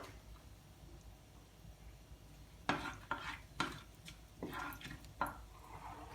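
Soft sizzling of whole spices in oil under a series of scraping stirs and clinks of a utensil against a pan, irregular and close.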